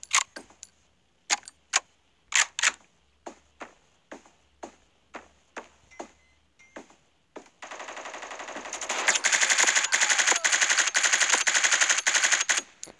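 Gunfire from a weapon in the shooter game Bullet Force: about a dozen sharp single shots at irregular intervals, then a sustained loud burst of rapid automatic fire for the last several seconds, no talking.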